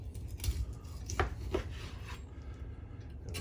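A sharp knife working through pork ribs between the bones, giving a few quiet crisp cutting and scraping strokes up close, soft and intermittent, with no talk.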